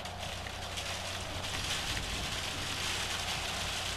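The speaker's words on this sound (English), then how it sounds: "as the rain lashes down here." Steady, dense hiss of rain pouring down during a FIFA 17 match between Glasgow Rangers and Motherwell at home, filling the whole stretch evenly and without pause, with no voices heard.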